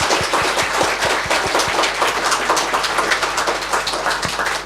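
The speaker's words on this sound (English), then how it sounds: "Please give a round of applause for these three students." A university audience gives a round of applause for three students after a student sharing session, a dense, even crackle of many hands clapping that holds steady for several seconds before starting to fade.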